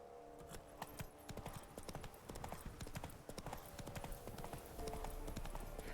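Roach the horse gallops in The Witcher: Wild Hunt, with rapid, continuous hoofbeats clattering close and loud under game music throughout.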